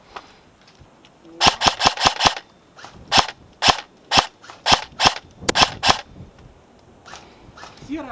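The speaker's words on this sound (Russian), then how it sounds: "СВДС стреляет не так точно, как моя ВСР-10, но это компенсируется высокой скорострельностью." An SVD-S airsoft sniper rifle firing 0.36 g BBs outdoors in a game, a rapid burst of about five sharp cracks, then a slower series of single shots, loud and close, with faint voices in the pauses.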